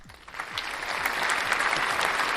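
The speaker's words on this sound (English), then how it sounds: "Let's give him a round of applause" A round of applause from an audience swells quickly from a few scattered claps into steady, full clapping that holds to the end, with faint voices mixed in.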